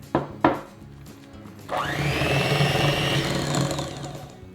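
An electric mixer whirs steadily while beating butter with powdered sugar in a bowl, after a couple of knocks against the bowl, running close and fairly loud on its own.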